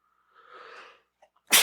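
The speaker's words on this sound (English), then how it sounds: "I just sneeze." A single sharp sneeze bursts out at the end, preceded by a soft breathy inhale and a brief catch, close and loud against near silence.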